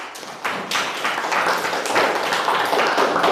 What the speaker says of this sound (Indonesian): kita beri tepuk tangan untuk kita semuanya